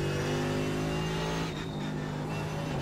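Race car engines from the rFactor 2 racing game at Suzuka hum steadily, a sustained droning engine tone that dips slightly partway through, with no talking.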